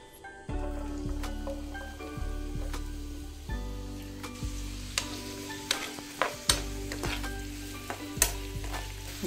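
Onion sizzling steadily in hot oil in a home kitchen while crab is being cooked, a close, continuous fry broken by sharp pops and scraping stirs, no voices.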